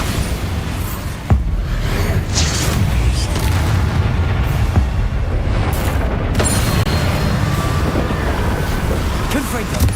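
The Bombarda explosion spell in Hogwarts Legacy goes off as one sharp boom, followed by a continuous loud rumbling roar with wind-like noise that fills the whole stretch.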